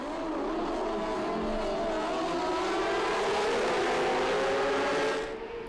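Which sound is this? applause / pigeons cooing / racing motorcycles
racing motorcycles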